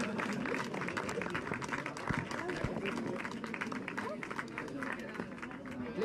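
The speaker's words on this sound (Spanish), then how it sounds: "Fuerte ese aplauso a los tres primeros clasificados en esta fabulosa subida a la Florida." A crowd at the finish of a cycling stage climb to La Florida applauds the top three finishers, steady clapping mixed with chatter and a voice talking over it throughout.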